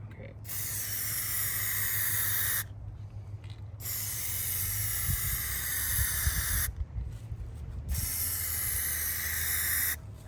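Aerosol PlastiDip sprays a second coat onto Ford F150 side emblems in three long hissing bursts separated by short pauses, close and fairly loud, with faint handling noise underneath.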